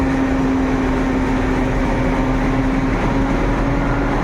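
An express train engine hums and drones steadily nearby, heard from the seventh compartment, with a constant low tone and no pauses.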